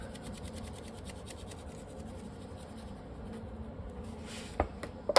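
Blackened pepper spice rub being worked by hand onto raw pork ribs, a soft steady scratchy rasping that continues throughout, ending with a few sharper taps and knocks near the close.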